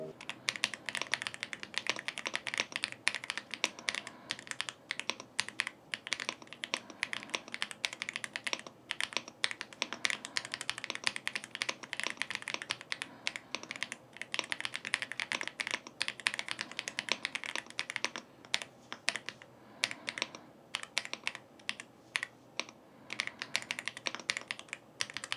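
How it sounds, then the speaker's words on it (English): Rapid clicky keystrokes on an AULA F87 Pro gaming mechanical keyboard continue steadily for a long stretch, crisp and close with no talking. "this is a gaming mechanical keyboard"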